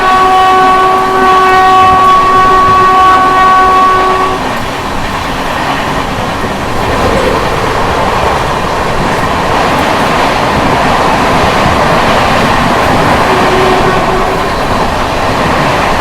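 A fast express train roars loudly as it rushes through Anand Vihar railway station in India without stopping, its horn blaring for several seconds at the start, followed by a steady rumble of wheels on rails.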